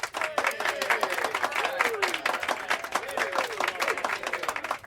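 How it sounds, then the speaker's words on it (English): Applause sound effect in a narrated audiobook scene set in a theater's basement, a crowd clapping steadily at moderate level with voices mixed in throughout. "The room erupted in applause."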